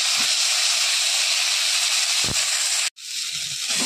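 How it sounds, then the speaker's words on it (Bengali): Chillies, bay leaf and five-spice sizzle in hot oil in a wok, a loud, dense, steady hiss that breaks off briefly near the end and then resumes. "কড়াইতে তেল দিয়ে দিলাম, দুটা লঙ্কা দিলাম, তেজপাতা দিলাম, ফোড়ন দেবো 5 ফোড়ন দিয়ে দিলাম।"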